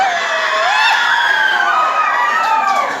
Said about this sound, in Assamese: ডাঙৰ হাত চাপৰি ৰাইজ